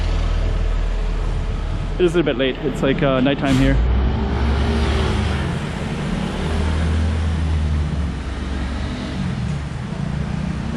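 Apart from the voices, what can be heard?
public buses driving by on a Macau street at night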